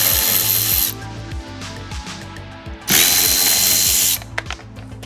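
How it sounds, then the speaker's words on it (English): Power drill with a 7mm socket backing out fog light screws on a Ford Bronco Sport, two loud whirring bursts separated by quieter ratcheting and clicking handling noises, no talking. "we're going to take our 7mm socket and remove these 3 screws."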